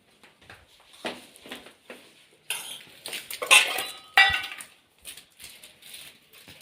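Dishes and utensils after a meal are washed in a home kitchen, with close, irregular clinks and clangs of metal pots and cutlery. Quiet at first, the clatter grows louder and busier midway, then eases off again.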